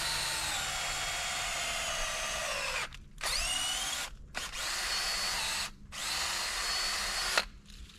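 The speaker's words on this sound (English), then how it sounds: "a Irwin Speed Bore drill bit" Power drill with an Irwin Speed Bore bit boring into a standing tree trunk outdoors, a steady loud whine in long sustained runs broken by three or four short pauses, alone with no talk.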